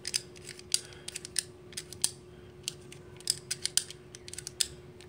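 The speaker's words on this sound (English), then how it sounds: "cut this film right here to get to it." A razor blade slices through the plastic film inside a Honda Civic door panel, giving faint, scratchy, irregular crackles and snips against a quiet background hum.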